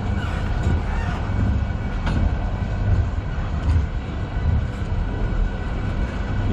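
A CN manifest freight train heading westbound in Sarnia passes at night behind CN 8017 and CN 8937 locomotives, a steady loud rumble of rolling cars with faint wheel clicks and occasional squeals throughout.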